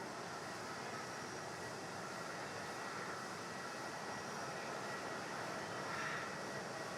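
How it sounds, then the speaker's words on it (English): A distant Air China Airbus A330 rumbles at Melbourne Airport, a broad steady roar of jet engines that holds evenly throughout with no voices. "there's our Air China A330"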